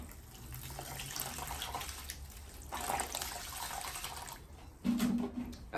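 Water pours steadily onto a potted plant with a soft splashing trickle, swelling slightly near the end, quiet and close with no talking.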